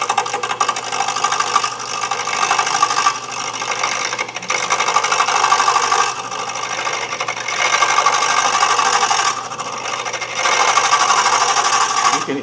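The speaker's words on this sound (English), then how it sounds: "You're tired of that happening, you just take your gouge, any gouge," Pen blank spinning on a wood lathe and cut with a gouge, a loud continuous scraping whir that pulses as the tool engages and briefly eases off several times, no talking.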